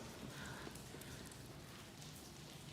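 Rain falls steadily as a dense, even hiss of drops, faint and distant, with no voices.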